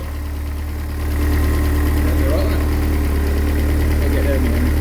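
A Ford Escort RS Turbo engine idles with a steady mid-pitched rumble and a fast mechanical tapping, close and loud, rising slightly in level after the first second.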